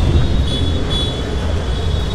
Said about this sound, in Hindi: ये गाड़ी का शोर शराबा अच्छा नहीं लगता मुझे